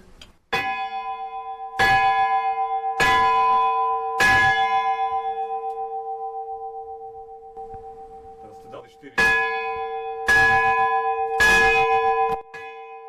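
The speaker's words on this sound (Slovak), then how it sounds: "A potom sa zvoní 5 minút oboma zvonami." Two church bells toll for a funeral in Slovakia, with loud, resonant strikes in clusters of three that ring on with long, slowly fading hums between them.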